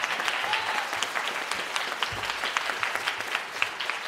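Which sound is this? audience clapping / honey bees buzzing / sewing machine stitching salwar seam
audience clapping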